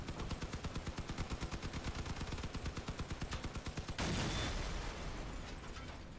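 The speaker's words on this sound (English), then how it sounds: "they're going to hit you with cannons" Weapons fire in the vehicle combat game Crossout, a long steady rapid stream of evenly spaced shots for about four seconds, then a harsher, noisier blast of fire that fades, with no talking.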